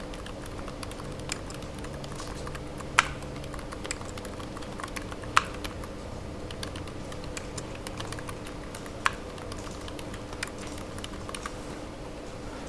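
Soft clicks of a computer keyboard tap out sparse, irregular keystrokes, with a few sharper presses like the Enter key standing out against a quiet room hum.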